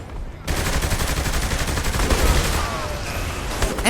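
Dense gunfire and explosions in the open-world game Saints Row: The Third, a rapid sustained barrage of shots that starts abruptly after a brief quiet moment and keeps hammering loudly to the end.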